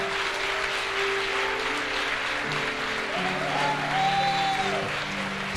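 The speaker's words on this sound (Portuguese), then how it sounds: "Aplauda o Senhor Jesus," A church congregation claps steadily through the whole stretch, a broad wash of applause with music tones and a faint voice beneath.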